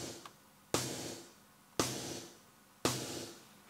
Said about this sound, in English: We have a Jomox Airbase 99 snare drum